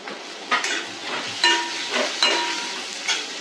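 Chopped cabbage goes into a hot pan with oil and turmeric for a quick Marathi-style vegetable dish, with repeated close spatula scrapes and clatters over a soft sizzle.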